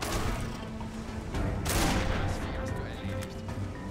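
Gunfire in the video game Risen 2, a burst of loud shots with a sharp crack near the middle, set against a busy, steady game soundscape.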